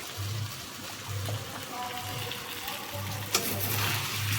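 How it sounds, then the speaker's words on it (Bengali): Rice boiling in a pot on a home kitchen stove gives a steady, close bubbling hiss with a soft low rumble that pulses on and off throughout. "আর এদিকে তো ভাত ফুটছে"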